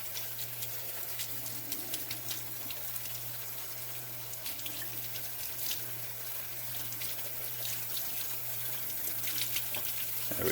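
Hot water runs steadily from a sink tap into a basin during cleaning of a K&N air filter, a continuous splashing gush that slowly swells in loudness over a low steady hum.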